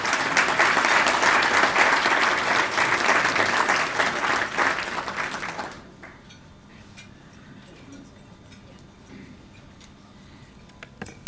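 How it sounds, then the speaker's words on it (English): A volunteer award reception audience claps for an honoree, a full round of steady applause that fades after several seconds into quiet room ambience with faint clinks. "please join me in giving a little round of applause for Ashley Snell."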